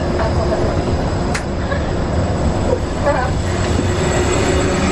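Disneyland's monorail train runs steadily along its track with a constant rumble and hum, a faint squeal and a few light clicks over the ride.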